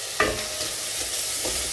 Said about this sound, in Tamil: நான் எண்ணெய் ஊற்றிட்டு வெங்காயம் இஞ்சி பூண்டு பேஸ்ட் போட்டு வதக்கிட்டுருக்கேன்